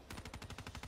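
Dingo machine gun firing in Black Ops 3 Zombies on Der Eisendrache, a fast, steady burst of about a dozen evenly spaced shots, quiet and crisp without any talking.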